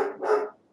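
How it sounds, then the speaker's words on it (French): A dog gives a single short, close bark, sharp and loud, fading quickly into silence. "je suis vraiment désolé pour mon chien"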